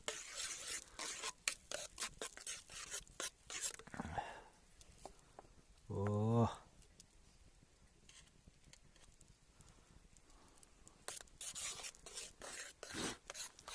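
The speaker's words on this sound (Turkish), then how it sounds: "Kaşık getirmemişsin bıçağına karıştırıyorum." Scraping and rubbing of a knife used to stir eggs cooking in butter in a pan, with repeated close clatters and a short louder scrape in the middle, otherwise fairly quiet.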